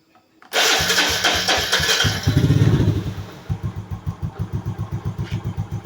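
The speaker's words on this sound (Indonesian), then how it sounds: "Kita nyalakan dulu motornya." Motorcycle engine cranked and started up loudly, catching with a roar that revs briefly, then settling into a steady, pulsing idle, close by with no talk.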